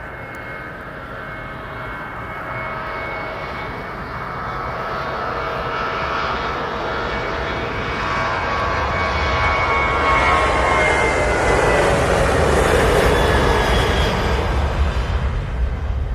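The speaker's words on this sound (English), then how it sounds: "So next one is TUI to Ibiza, 737-800. We should get some nice sound off this one." A TUI Boeing 737-800 jet bound for Ibiza takes off, its broad engine roar building steadily louder and nearer over about sixteen seconds, with no voices.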